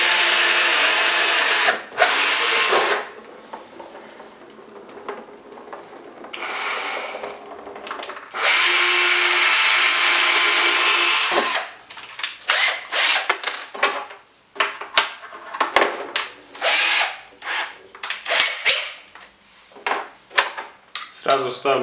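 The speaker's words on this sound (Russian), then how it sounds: "Просверливаю отверстие необходимое." An electric drill with a 2 mm bit whirs in several bursts as it bores into wood for a desk, followed by clattering and knocking sounds of handling tools and parts.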